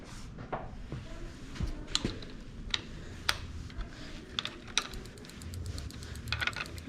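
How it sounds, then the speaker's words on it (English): A socket wrench ratchets as it tightens a bike crank bolt, giving quick clicking ticks in short bursts, close up and fairly quiet over a low background hum. "tighten it down with that socket wrench that we used to take it off"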